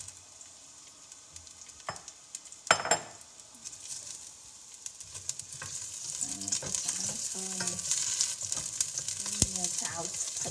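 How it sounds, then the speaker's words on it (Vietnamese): Chicken marinated for curry is stir-fried with fresh home-grown lemongrass in a pan, giving a steady close sizzle with sharp scrapes and clinks of a utensil stirring against the pan. "Xào thịt cho nó thơm."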